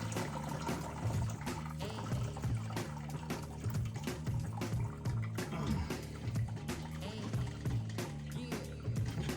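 Stinging nettle mead liquid draining off through a strainer, a continuous trickling and splashing of liquid with irregular drips and small clinks throughout, moderately close.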